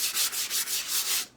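A painted wooden sign smoothed by hand, with steady back-and-forth rubbing strokes in a regular rhythm of about six passes, close and fairly loud, with no talk.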